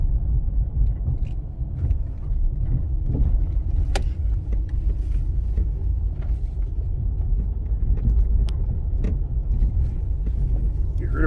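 Toyota RAV4 driving over a washboard road, with worn suspension struts and shocks giving a steady low rumble from inside the cabin, marked by occasional sharp knocks and clunks.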